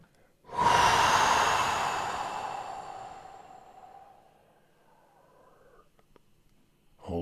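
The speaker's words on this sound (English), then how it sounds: "Breathe out everything." A single long, deep exhale during a guided breathing exercise, loud and close at first and slowly fading away, followed by quiet with a faint breath at the end.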